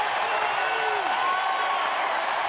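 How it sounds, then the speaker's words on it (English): Basketball arena crowd at a Western Kentucky home game cheering and applauding after a forced turnover, a dense, steady roar of clapping and shouting filling the space throughout. "And here comes the crowd."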